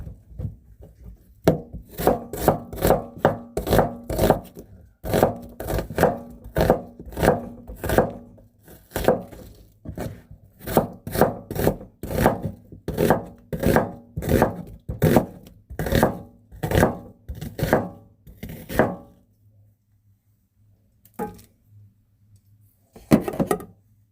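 A knife chops onions on a wooden board in fast, even strokes that run in long rhythmic bursts, then slow to a few isolated cuts near the end.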